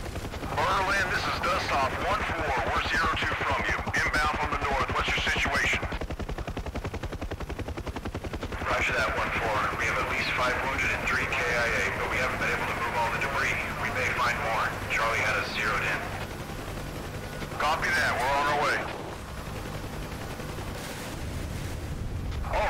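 Sustained bursts of gunfire roar during a DCS UH-1 Huey helicopter combat mission, loud rapid fire in long stretches with pauses, over steady rotor drone and occasional talk.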